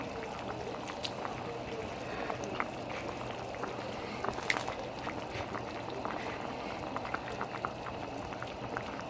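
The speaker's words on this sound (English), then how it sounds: "The pasta was pretty tough, so I let it boil for a couple minutes." Pasta and shrimp boil in a pot of water, a continuous bubbling rumble with small pops and splashes, heard close up at low level while someone talks.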